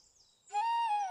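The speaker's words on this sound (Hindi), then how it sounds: "तभी एक घायल तोते की आवाज सुनाई देते ही वह तोते के पास आता है।" An injured parrot calling in a forest, one sustained, clear, nasal squawk heard close and alone.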